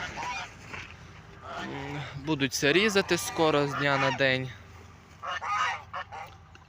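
Domestic geese honk loudly and repeatedly close by in a snowy farmyard, a burst of overlapping calls in the middle, while someone talks before and after.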